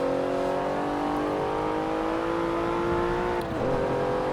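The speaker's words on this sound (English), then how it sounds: "The Porsche does accelerate really quickly, and it takes this uphill" A Porsche 911 Turbo S in Forza Motorsport 7 accelerates hard uphill on a hot lap, its engine note rising in a smooth, loud, continuous drone with a brief gear-shift dip near the end.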